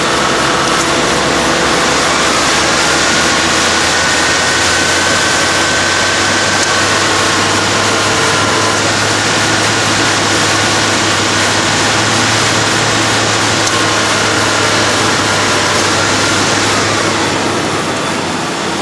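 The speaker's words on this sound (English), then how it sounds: "I'm going to give the engine some rev and see if that compressor will stay on any longer" A 1995 Ford Crown Victoria engine runs loud and steady under revving, a sustained broadband roar with a low droning hum that holds for nearly twenty seconds before easing slightly at the end.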